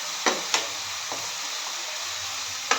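Onion paste sautés in a pan as a dish of clam meat is cooked, giving an even, close frying hiss punctuated by a few sharp spatula scrapes and taps.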